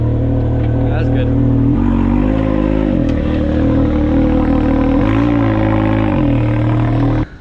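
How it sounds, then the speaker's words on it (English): Vehicle engine with an RPM sport muffler exhaust, a loud steady droning rumble with a couple of brief rises in pitch, running throughout, with voices talking over it, before cutting off at the end. "I got used to the exhaust. It's not as loud as I thought."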